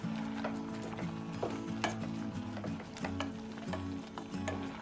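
Spoon stirring a Kerala-style tomato curry in a pot, soft scraping and occasional light knocks against the vessel over a steady low simmer, close and fairly quiet with no talking.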